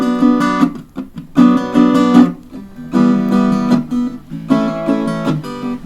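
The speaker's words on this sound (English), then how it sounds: "I'm going down, up, down, up, down, up, then chord muting" Close, loud acoustic guitar strumming of a song runs down-up in quick chord bursts, broken by short percussive muted chops where the chord is choked off between strums.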